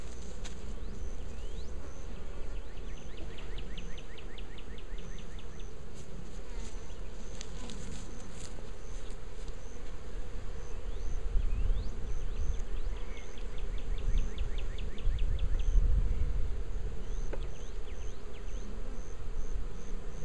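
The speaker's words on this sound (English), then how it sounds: "We're going to shake some bees for Frank in here." Honeybees buzz steadily as they are shaken into a hive while a spring split is made, a close, continuous drone with brief rustling and thumping bursts midway, and no talking.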